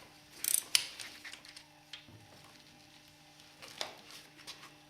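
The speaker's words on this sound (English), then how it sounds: "It's also easier if you use an extension on your ratchet to get to this one." Socket ratchet on an extension working a crankcase bolt on a Yamaha WR250 motorcycle: a few sharp clicking bursts near the start, then faint scattered ticks and light handling noises, close and quiet.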